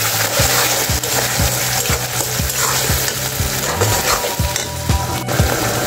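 A ground paste of ginger, cumin, garlic, onion and coriander fries loudly in a pan for a mutton curry, with a constant sizzle and regular scraping strokes of a spoon stirring.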